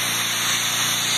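A soft-wash sprayer hisses steadily while spraying aluminum siding and fiberglass on a house, a continuous loud broadband spray with a faint motor hum underneath, no talking.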